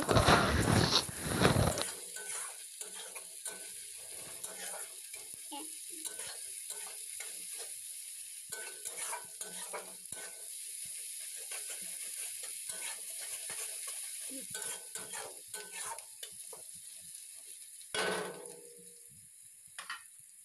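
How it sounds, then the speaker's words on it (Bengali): Garlic and onion frying in a pan for a village-style chicken dish, with a loud burst of sizzle at the start, then a low, steady crackle broken by scraping stirs and clinks, and another louder stir near the end. "দিয়ে আবারও একটু নেড়ে চেড়ে রসুনটাকে ভাজা ভাজা করে নেব।"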